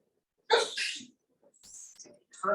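A single sharp, close sneeze bursts out, followed by faint breathy sounds and brief quiet talk.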